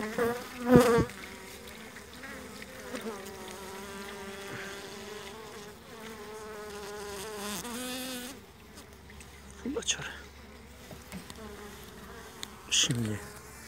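Hungry honeybees buzz close by around a hive with no honey left, a continuous droning hum with louder bursts as individual insects pass near, and no talking.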